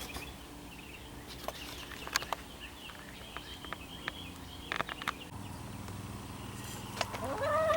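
Several chickens clucking in short, scattered bursts, some near and some farther off, with a rising squawk toward the end.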